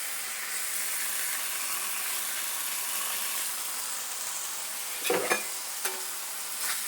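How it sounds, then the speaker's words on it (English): A burger patty sizzles and fries steadily on a hot griddle, then a razor scraper scrapes sharply beneath it in a few quick strokes near the end. "I'm gonna scrape up my patty."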